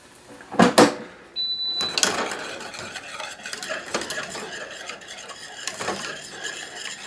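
A whisk works a mac and cheese sauce in a pan: a couple of loud metal clanks near the start, then steady scraping and stirring against the pan for several seconds, close up and with no voices.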